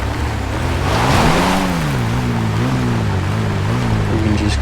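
Engine drone of an off-road Outlaw vehicle in GTA 5 sliding down a hillside into a pond, a steady loud rumble with wavering pitch as the revs rise and fall, a brief watery wash near the start, no voices.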